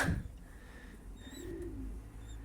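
Mardin Dumanlı Perçem pigeons, a smoky crested breed, give a soft, low cooing call midway through, faint and close, with a few thin chirps and a brief rustle at the start.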